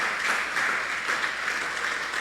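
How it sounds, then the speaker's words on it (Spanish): Church congregation applauding during a sermon, a steady, fairly loud roll of many hands clapping evenly throughout. "Le da un aplauso usted al Señor."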